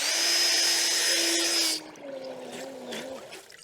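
A brushed Hyundai impact wrench whines loudly, then drops into water and continues as a muffled, wavering hum with faint bubbling.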